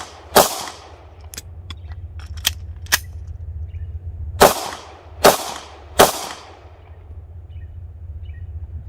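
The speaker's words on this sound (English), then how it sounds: "our task will be to fire 3 rounds, reload, and fire 3 more" Pistol shots on a firing range: three sharp cracks fired in quick succession, a short pause for a reload, then three more spaced shots, with no voices.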